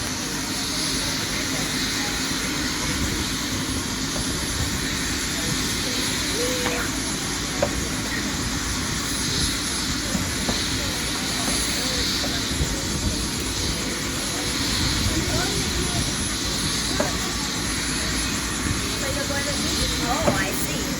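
A steady broadband roar of a fixed-wing aircraft flying overhead, constant and moderately loud across the whole stretch, with faint voices and small ambient bumps mixed underneath.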